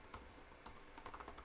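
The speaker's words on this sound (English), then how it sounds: "as I'm typing stuff in, nothing's happening on the right" Computer keyboard being typed on, a quick irregular patter of soft key clicks, close and quiet, with no one talking.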